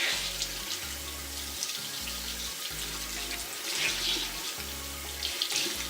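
Warm tap water runs into a sink while a beauty blender sponge is squeezed and rinsed under it, making a steady close splashing flow with rhythmic squelching pulses, no talking.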